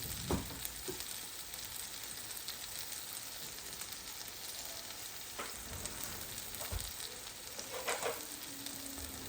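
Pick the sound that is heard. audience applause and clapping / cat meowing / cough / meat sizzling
meat sizzling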